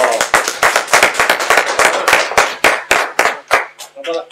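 A small podcast audience gives a round of applause, loud, close, uneven bursts of clapping that thin out into a few separate claps before stopping.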